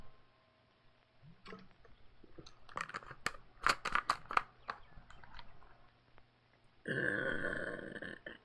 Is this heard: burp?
yes